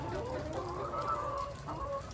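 Caged laying hens cluck and murmur continuously inside a layer building, a dense overlapping flock chatter with occasional louder calls, steady and fairly close throughout.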